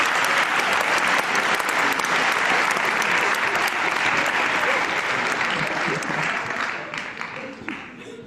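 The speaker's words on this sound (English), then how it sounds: "please do join me at home in clapping this round of applause of celebration" A sustained round of applause fills the grand finals of the Engineering for People Design Challenge, loud and steady before tapering off near the end as a voice begins to come through.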